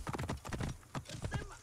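Horse hooves clip-clop at a quick, steady rhythm in the video game Assassin's Creed Origins, close by and moderately loud, with faint speech underneath.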